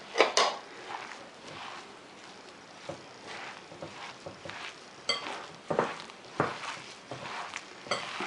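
Minced meat and vegetables for Iraqi pan kebab kneaded by hand in a bowl, soft wet squelching and slapping pats in an irregular rhythm, close and fairly quiet, with occasional light clinks of the bowl.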